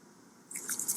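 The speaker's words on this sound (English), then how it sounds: "we're going to twist it a couple times, and that's how it gets crushed" Plastic pill crusher twisted to grind a tablet into powder, giving a few close, gritty crunching and scraping bursts in the second half after a quiet start.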